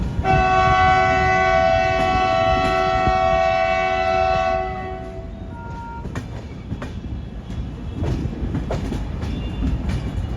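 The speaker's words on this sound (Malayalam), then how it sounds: "അമൃത്സറിന്ന് ബിലാസ്പൂർ പോകുന്ന ഛത്തീസ്ഗഡ് എക്സ്പ്രസ് ആണ് കേട്ടോ ഈ പോകുന്നത്." The WP7 locomotive of the Chhattisgarh Express sounds a long, loud multi-tone horn as it passes near Bhopal Junction, giving way to the steady rumble and clatter of the passing coaches.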